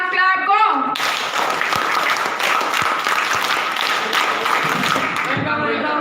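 Audience applause at a school National Science Day event, a dense sustained crowd clapping for several seconds, loud and close, after a brief spoken call at the start.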